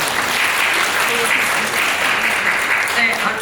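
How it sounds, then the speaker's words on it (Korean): Sustained, steady applause from an audience at a Korean curriculum presentation event, a dense continuous wash of many hands clapping at an even level throughout. "뜨거운 박수 주시길 바랍니다"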